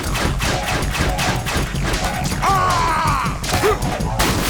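Pistol fire in Metal Gear Solid 2: Sons of Liberty, a dense run of sharp repeated shots at steady rhythm over a loud game soundscape, with brief mechanical clatter.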